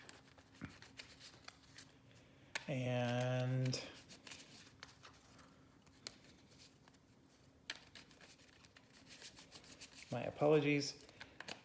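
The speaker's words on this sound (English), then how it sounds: "so let me finish shuffling the first deck." Board game cards from a Spacecorp deck are shuffled by hand, with a dense, buzzy riffle lasting about a second, a scattering of small rubs and taps, and a second shorter riffle near the end, while a person speaks briefly.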